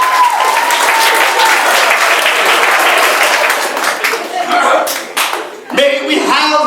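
Loud, dense applause from a comedy show audience fills the space, sustained clapping with a few dips and a final swell, mixed with scattered laughter.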